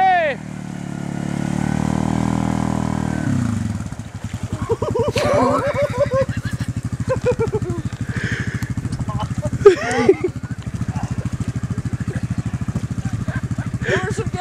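An off-road vehicle stuck in mud is revved hard, its engine shifting from a smooth drone into a loud, choppy rapid chugging as it strains, with people shouting excitedly over it.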